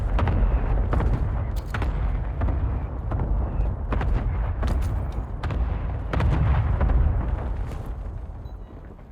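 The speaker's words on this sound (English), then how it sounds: "Enemy grenade." Explosions from an enemy grenade in the Call of Duty Warzone battle royale game, a run of loud, booming blasts and bursts repeating through the clip, with no talking.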